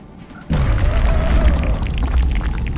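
A frag grenade detonates in the XCOM Long War strategy game, a sudden loud boom that bursts in after a brief quiet moment and rolls on as a heavy, sustained rumble with crackling debris.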